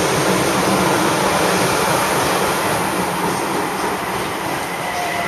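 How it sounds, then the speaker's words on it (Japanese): Local commuter train passing on rails at a station platform, a loud, close, continuous rush of wheels and rail noise with rattling clatter throughout. "こっちは これ普通電車。"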